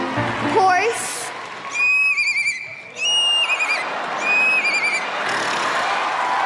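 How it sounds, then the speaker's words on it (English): Horse neighing up close: a sharp rising whinny followed by several shrill, quavering calls in quick succession. "Horse."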